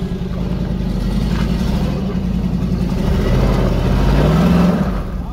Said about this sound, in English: She's got the old Hemi tick.